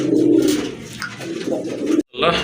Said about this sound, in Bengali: এক জোড়া কবুতর দেখতে পাচ্ছেন, রাজগোল্লা কবুতর, একদম টকটকে লাল কালারটা।